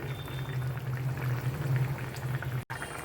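Hilsa and eggplant curry simmers in a pan as a little mustard oil is added on top, giving a steady soft bubbling and sizzling, close and moderate in level with no speech.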